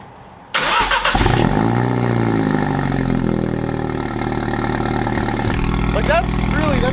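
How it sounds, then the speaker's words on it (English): Mini F56 fitted with a decat downpipe fires up from cold with valves open: a sudden loud starter catch and roaring revs that settle into a rumbling, high idle with a brief blip near the end, close and loud. "Enjoy what is probably one of the last valves open cold starts I'll be able to do in the neighborhood."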